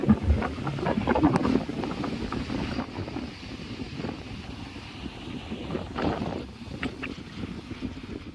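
Cold wind blows along the Sindhudurg coast in the Konkan region, buffeting the microphone in a continuous rush that is strongest at the start and then eases.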